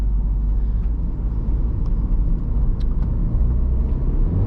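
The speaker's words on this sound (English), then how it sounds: "It sounds pretty good, honestly. Has a nice deep rumble and a pretty deep tone until you get higher into the RPMs." Steady low rumble of a 2015 MINI Cooper Countryman S ALL4 engine while driving, heard from inside the cabin as a constant, fairly loud drone with road noise and no rise in revs.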